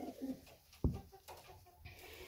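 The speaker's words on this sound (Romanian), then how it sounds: "cei mai mici porumbei din volieră" Soft, muffled calls and faint low cooing of young pigeons in an aviary, quiet space, with brief rustles and one sharp knock partway through.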